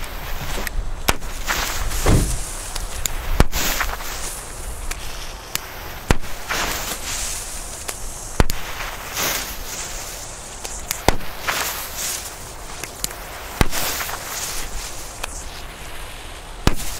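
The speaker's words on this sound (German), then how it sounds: "Jetzt die Super 10. 10 Stück sind so kleine Böller in B-Böller-Form." Super 10 small Chinese firecrackers explode outdoors in snow, roughly ten sharp, loud bangs at irregular intervals with a faint rumble between them.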